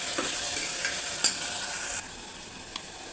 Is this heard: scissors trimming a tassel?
no